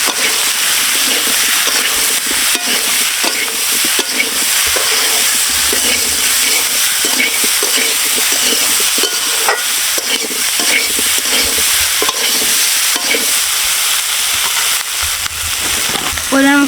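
Chopped fresh green chilies hit hot oil in a pan for a village-style fish curry with pumpkin and sweet potato, giving a loud, continuous close sizzle with stirring scrapes throughout.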